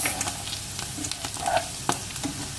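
Sausage, mushrooms and onions fry quietly in a pan with a soft, steady sizzle, broken by a few light clicks and scrapes of stirring, close by and fairly faint.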